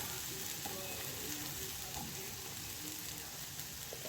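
Moong dal dosa sizzles steadily in ghee on a hot pan, a close, continuous crackling fry with no voices.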